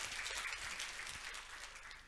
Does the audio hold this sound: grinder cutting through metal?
no